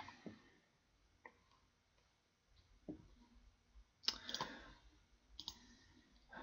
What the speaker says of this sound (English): Clicking back on this redraw button reloads the data